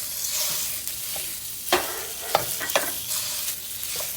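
Ground pork sizzles in a pan for Taiwanese spring roll filling, a steady frying hiss broken by a few sharp scrapes and taps of a spatula stirring.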